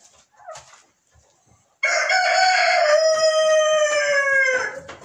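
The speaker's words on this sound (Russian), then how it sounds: "Пустил сюда петуха амирокана" An American rooster crows once, loud and close, a long sustained cock-a-doodle-doo lasting about three seconds after a short stretch of faint background clucking and shuffling.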